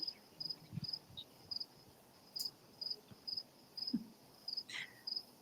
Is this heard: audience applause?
no